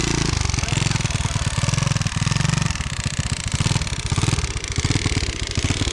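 A Honda CT70 pit bike engine runs and idles unevenly in a steady, loud, close-up rumble with sputtering and clatter, which keeps up without a break.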